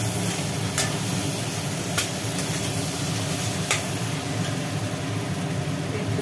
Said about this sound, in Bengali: মশলা কষানো হয়ে গেল, এবার দিয়ে দেওয়া হলো আলু, এর ভেতরে আলু দিয়ে দেওয়া হলো।